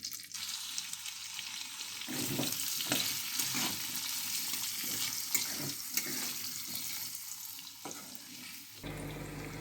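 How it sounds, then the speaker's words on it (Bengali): Pumpkin pieces frying in oil with cardamom, cinnamon and cloves, giving a steady close sizzle with occasional stirring scrapes and no talk. "এবার আমি কুমড়োটা দিয়ে দেবো এর মধ্যে, তেলের মধ্যে"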